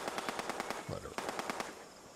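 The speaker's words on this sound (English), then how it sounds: "there's so much gunfire going on downstairs" Rapid automatic gunfire rattles from downstairs in two quick volleys of evenly spaced shots with a short pause between them, loud but somewhat muffled, with a brief low voice in the gap.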